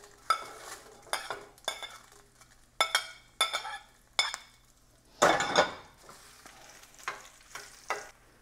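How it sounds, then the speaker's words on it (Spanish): Guajillo chiles fried in hot oil for a pozole salsa, with a light sizzle under repeated quick stirring scrapes and clinks of a utensil against the pan, close up and with no talking. "Miren, ya están los chiles. Se doran bien rápido porque está caliente."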